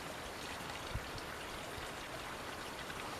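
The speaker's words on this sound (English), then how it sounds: "Now the water is running beautifully." Steady, continuous rush of spring water running from a well in the west of Ireland on a winter morning, even and unbroken with a bright splashy texture.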